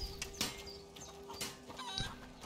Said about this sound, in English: Maybe we can have a pet chicken now.